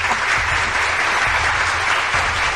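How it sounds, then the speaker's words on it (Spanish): Steady, loud applause from a group of people, continuous clapping filling the whole short stretch, with low rumble underneath and no clear speech. "Oye, un aplauso para todos ustedes, caballeros."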